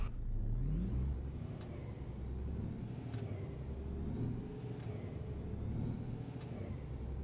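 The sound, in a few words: truck engine struggling, from video game On The Road Truck Simulator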